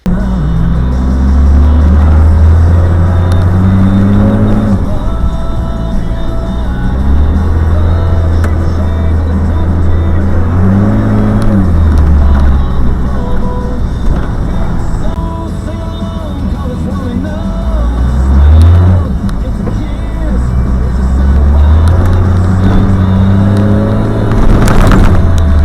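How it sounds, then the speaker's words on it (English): A Cummins diesel-swapped truck on the road, its engine drone rising and falling through gear shifts with steady low rumble and occasional revving, continuous and close from inside the cab. "I'm going to actually roll in some dash cam footage of me driving the truck here."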